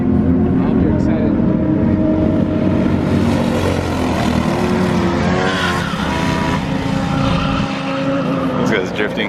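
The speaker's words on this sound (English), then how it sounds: "This guy's drifting." Cars drifting around the race track at the Thermal Club, engines roaring and tires squealing steadily throughout, with a voice talking over the loud, continuous noise.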